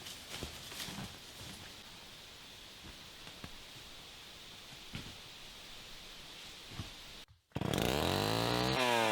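A chainsaw cutting a firewood log at a camping site revs up suddenly near the end, loud and close after a brief pause in the low background noise.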